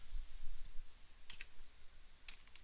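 Computer keyboard typing, a few faint scattered key clicks in a quiet room, with two closely spaced clicks followed by another a second later.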